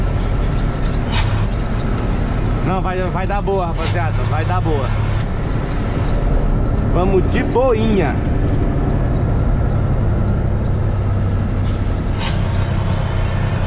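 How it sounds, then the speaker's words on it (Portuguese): A loaded Scania truck carrying onions runs with its engine brake engaged, a steady deep engine drone continuing throughout while someone talks over it. "Ligar o freio motor."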